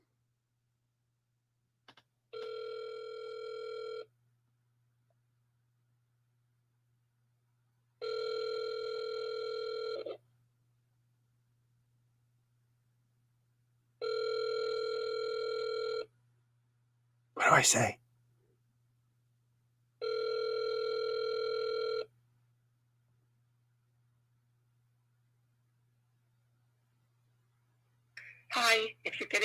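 Outgoing telephone call ringing, four evenly spaced two-second ring tones separated by silence, with a brief spoken remark between them and a voicemail greeting starting at the end.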